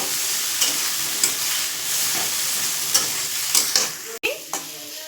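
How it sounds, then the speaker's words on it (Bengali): Eggplant pieces fry in oil, which is meant to be flavored with hilsa fish oil, giving a continuous loud sizzle broken by regular spatula scrapes and a sudden clack followed by a brief quieter pause. "প্রথমে আমি বেগুনটাকে আগে ভেজে তুলে নেব"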